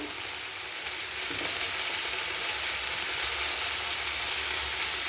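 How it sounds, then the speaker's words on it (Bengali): Diced potatoes frying with salt in a wok for a Bengali omelette curry, a loud, continuous close-up sizzle with no talking. "কড়াইতে দিয়ে দেব দিয়ে আলুগুলো লাল করে ভেজে নেব"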